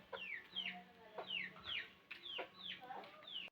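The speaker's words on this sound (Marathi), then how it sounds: "हे बघा, कोंबडी बघा बसायला।" Several chickens cluck and squawk in short repeated bursts, close by, with a faint low hum underneath.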